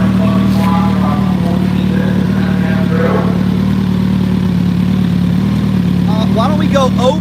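Kawasaki ZX14 drag-race motorcycle with a Rock's Performance exhaust idling, a loud, steady, low rumble close by, with people talking over it at a drag strip.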